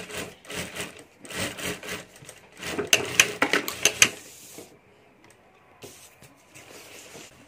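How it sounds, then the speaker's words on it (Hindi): A sewing machine stitches along the top of a homemade fabric lunch box in quick bursts of rapid needle chatter, louder in the middle and then fading to quiet handling. "तो यहाँ मैं ऊपर सिलाई कर देता हूँ।"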